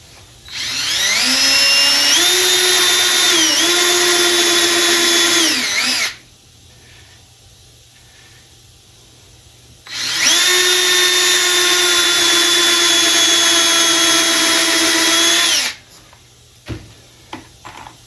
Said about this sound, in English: It does the drilling and the countersinking for the flat head screws.